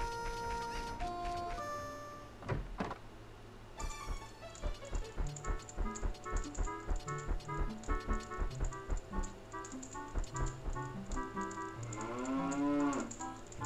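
A cow moos indoors inside a house in the Ocarina of Time PC port, a low drawn-out game sound effect heard over continuous music.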